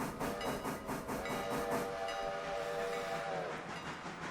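A train rolls over a siding in the Railroader video game with a continuous rumbling, rhythmic clatter and a sustained whistle or horn tone through the middle, loud and steady, with no talk.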